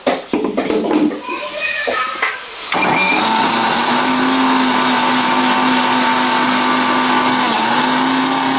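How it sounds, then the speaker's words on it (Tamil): A kitchen mixer grinder grinds ginger and garlic into a fine paste: a few clattering starts, then a loud, steady, high whirring motor that runs on without a break. "நல்லா ஃபைன் பேஸ்ட்டாக அரைக்கணும், நல்லா இஞ்சி பூண்டுலாம் அரைப்படணும்"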